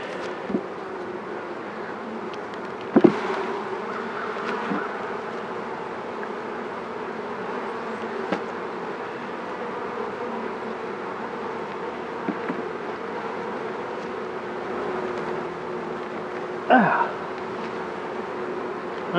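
Honey bees buzz around an open beehive during an inspection, a steady, moderate hum throughout with a few faint clicks and knocks of frames being handled.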